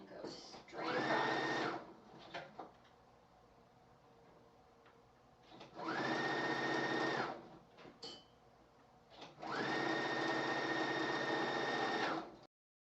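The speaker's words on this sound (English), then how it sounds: "we have stitched our collar on" A sewing machine stitches a one-piece shawl collar onto a dress in three separate bursts of fast, whirring stitching, with quieter pauses between runs while a voice talks.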